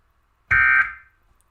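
A single loud alarm blast, a harsh buzzing tone held for a fraction of a second, then ringing out into silence.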